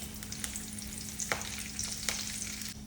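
Curry leaves crackle and sizzle in hot coconut oil with popping mustard seeds, a steady frying hiss with a few sharp pops and spits, close and alone without voices.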